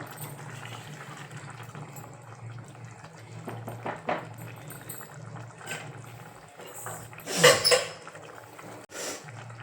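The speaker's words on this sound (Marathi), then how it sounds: "हे पाणी टाकून घ्यायचं आहे पाणी गरमच टाकायचं आहे" Hot water poured into pav bhaji vegetables in a pressure cooker, a steady liquid rush with a louder splashing surge near the end, alone without talk.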